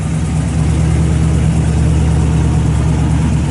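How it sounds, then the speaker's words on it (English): A 1967 Pontiac GTO with a 400 turbo transmission idles through dual exhaust, a loud, close, steady rumble with a slight uneven lope and no pauses. "Got a nice dual exhaust."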